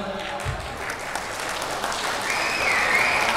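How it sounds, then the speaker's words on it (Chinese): Wedding dinner guests applauding together in a banquet hall, a dense, sustained round of clapping that swells slightly toward the end, with faint voices underneath. "第一个视频的掌声"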